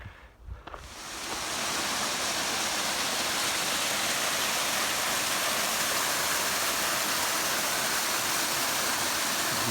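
A waterfall just off the Pacific Crest Trail roars as a loud, steady broadband rush, rising after a brief quieter opening and then holding constant and close with no talk over it.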